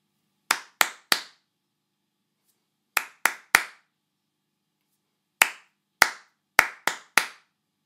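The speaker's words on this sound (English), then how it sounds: "So, I'm going to clap some different rhythms now." Sharp hand claps performed as rhythms to be copied back, in three separated bursts: three quick claps, another three, then a faster run of five, each crisp and close with silence between groups.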